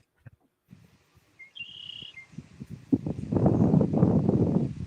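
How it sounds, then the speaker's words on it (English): A short, clear whistled red-winged blackbird call rings out over rustling, gusty wind noise during a severe weather event with damaging winds, followed by a louder rush of wind through trees. "Is that a red-winged blackbird I just heard?"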